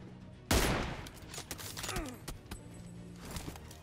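Gunfire coming from behind in a PUBG-style battle royale game, one sharp loud shot followed by scattered smaller cracks and bursts at mid distance.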